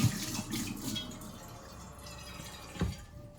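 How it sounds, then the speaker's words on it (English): Water from a tap runs and splashes into a cooking pan, faint and close, with a few brief drips and splashes on a low steady trickle. "we're going to get some water in a pan like this. I'm going to fill it so that there's water covering the bottom."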